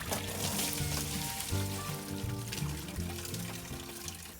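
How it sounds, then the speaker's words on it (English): Coolant water pours out of the lower radiator hose of a 302 Ford engine into a bucket, a steady close splashing stream running the whole time over a low background hum. "this is where most of your water is going to pour out"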